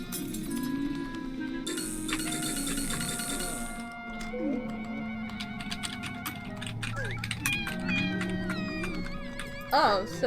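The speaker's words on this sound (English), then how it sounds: "Oh, so there's both a dog and a cat." A cat meows in brief bursts amid a busy mix of game sounds, clicking keys and tones during a Halloween livestream, with people chatting over it.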